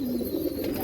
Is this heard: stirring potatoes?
no